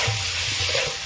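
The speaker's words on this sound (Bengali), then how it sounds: "এবার আমি ভেজে রাখা ফুলকপিগুলো দিয়ে দেবো।" Fried cauliflower florets tumble into a hot pan of spiced potatoes and fish curry base, giving a steady close sizzle with stirring scrapes for about a second, no voices.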